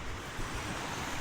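Ocean waves wash onto a beach at a campsite, a steady close rush of surf with wind noise buffeting the microphone.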